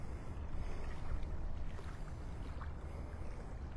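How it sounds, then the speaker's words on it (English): A low, steady motor rumble from a distant boat heading out off a Gulf beach at Delnor-Wiggins in North Naples, faint and continuous under light wind and water noise, with no voices. "Thought I heard another boat coming out."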